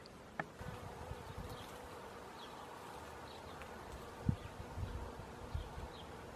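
A steady, dense insect buzz of many honeybees flying close by around a hive in January, continuous throughout with a few louder passes and light knocks.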